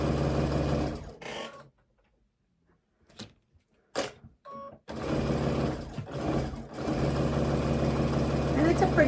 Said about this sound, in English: And now I'm going to sew on both sides.